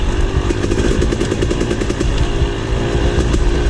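A KTM 300 XC two-stroke dirt bike engine runs at a steady, loud, buzzing drone throughout a trail ride, close up and continuous, with no talking.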